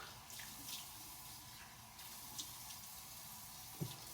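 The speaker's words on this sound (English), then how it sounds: "rinse it off, apply some warm water" Water runs from a bathroom tap to rinse a safety razor, a faint steady hiss with a few soft taps and knocks against the sink.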